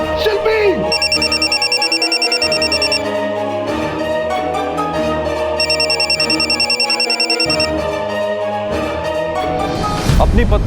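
A phone rings in repeated electronic bursts over background music, with a brief voice and a loud noise at the end.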